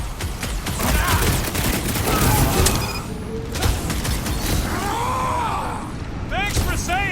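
Gunfire in the Marvel's Guardians of the Galaxy video game, bursts of shots and blasts mixed with combat noise and mechanical clatter, with voices calling out over the fight throughout.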